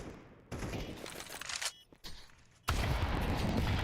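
Grenade blasts in a Counter-Strike match on the B bomb site, heard as loud broadband bursts with abrupt cutoffs, including a heavy explosion near the end, amid game noise.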